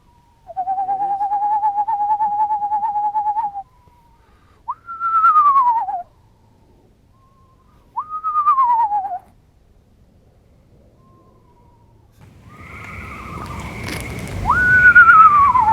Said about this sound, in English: I think I hear some screech owls over here